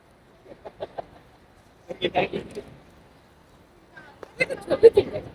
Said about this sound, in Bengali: একদম পাখির মাঝখানে।